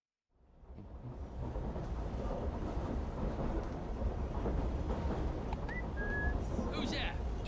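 A train running in Assassin's Creed Syndicate, a steady loud rumble and clatter that builds in and holds, with a brief whistle-like tone near the end.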